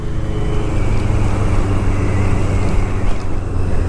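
A Yamaha 750 Maxim motorcycle rides along with a steady, loud, low engine rumble mixed with rushing wind noise and no pauses.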